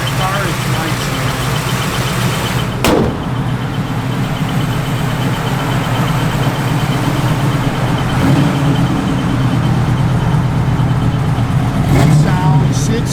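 A 1968 Chevrolet Camaro with a mild cam idles steadily and loudly up close, its low rumble loping evenly throughout, with brief clicks and someone talking over it.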